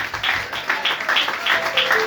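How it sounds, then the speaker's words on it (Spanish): Congregation clapping during an evening church vigil service, uneven bursts of hand claps from a group, loud and close, with rhythmic peaks and small gaps between them. "Dale un aplauso al Rey."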